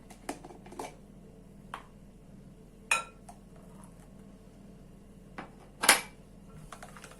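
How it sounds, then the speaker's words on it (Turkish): A spoon stirs squeezed lemon juice into lemon cake batter in a bowl, giving a few scattered clinks and taps against the bowl with quiet pauses between them and no voices. "Bunu da şöyle bir karıştırıyorum birkaç defa."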